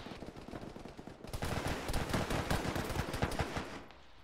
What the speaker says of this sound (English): We're taking a lot of fire in the bunker.